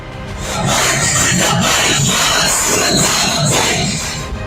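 Huge mourning crowd at Khadim Hussain Rizvi's funeral at Minar-e-Pakistan in Lahore, a loud, dense roar of massed voices chanting in rhythmic surges that swells and holds.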